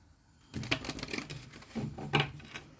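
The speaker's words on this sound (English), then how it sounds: "let me just reshuffle" Tarot cards being shuffled by hand during a reading, two short bursts of close, soft riffling and slapping separated by a brief pause, quiet and without speech.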